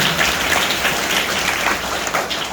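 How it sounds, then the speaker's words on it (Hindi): Children clapping at a school event, a dense patter of many small hands that stays fairly loud and steady through the short stretch. "वेरी गुड, तालियां बजाएं उनके लिए और उनके लिए।"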